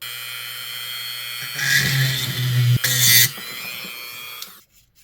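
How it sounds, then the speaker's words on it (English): A high-pitched Dremel rotary tool whines steadily while grinding brass for an HO scale model log car, rising into a louder grinding burst midway, then spins down and stops near the end. "For this, I am going to use the Dremel."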